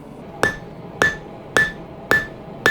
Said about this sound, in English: We are using the peen of the hammer now.